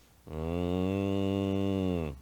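A cow gives one long, loud, close moo with a steady pitch, starting sharply and holding for nearly two seconds before cutting off.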